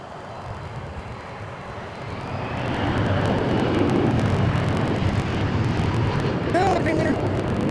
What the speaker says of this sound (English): There is China Airlines cargo.